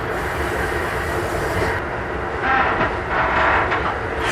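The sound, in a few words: passenger train passing on railroad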